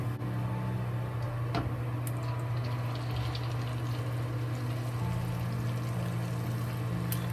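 Hot oil being drained from pork pieces that are deep frying, giving a steady close sizzling, bubbling hiss with a low continuous hum beneath it and no talk.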